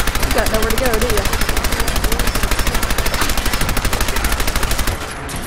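Sustained automatic gunfire from Fallout 4, a rapid, steady stream of loud shots lasting several seconds with a voice talking underneath, cutting off abruptly near the end.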